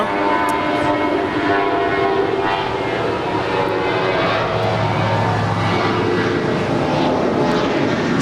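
Alaska Airlines plane in Toy Story livery at LAX, a loud, steady jet engine roar with broad rushing noise, sustained and fairly close, no voices.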